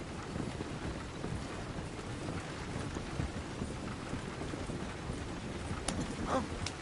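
Horse hooves clip-clop through steady rain in Red Dead Redemption 2, a soft continuous patter of rain and wind with faint hoofbeats underneath, a couple of sharper knocks near the end.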